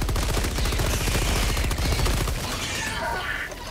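Rapid automatic gunfire from a weapon in Helldivers 2 during a bug fight, a dense, loud, continuous burst of shots running the whole time and easing slightly near the end.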